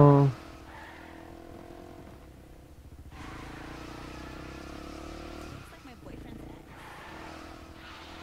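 A car engine in the Saints Row 4 video game hums and revs steadily at moderate volume, with a short harsh burst near the start and a voice talking over it.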